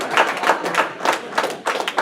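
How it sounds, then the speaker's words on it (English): Audience members at a town council meeting give a short round of applause, a handful of people clapping in loose bursts that swell and dip over about two seconds. "So if everyone in here would give them a round of applause"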